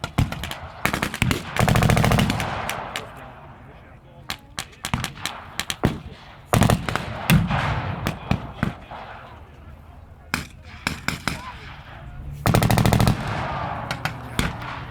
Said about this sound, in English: Heavy fire in the middle, some hidden by the trees